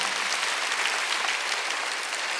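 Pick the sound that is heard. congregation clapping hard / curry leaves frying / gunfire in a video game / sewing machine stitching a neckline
congregation clapping hard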